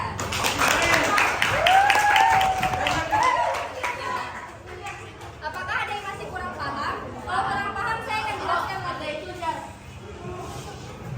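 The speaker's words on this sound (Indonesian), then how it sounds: "Oke, kita tepuk tangan untuk baca." Classroom applause for a student presenter during a maths lesson on central and inscribed angles in circles, a burst of clapping from a small class mixed with children's chatter and voices throughout.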